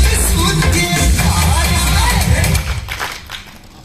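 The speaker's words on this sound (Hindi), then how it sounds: "एक जोरदार तालियां हो जाए" Loud crowd noise with applause and cheering from an audience at a business gathering in Jaipur, dense and sustained, then fading toward the end.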